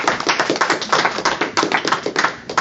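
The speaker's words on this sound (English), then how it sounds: "give him a round of applause, ladies and gentlemen" A live event audience applauds, dense rapid hand clapping close and loud, steady for a couple of seconds with no talk over it.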